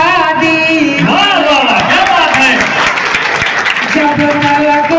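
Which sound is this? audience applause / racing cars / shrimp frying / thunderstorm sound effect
audience applause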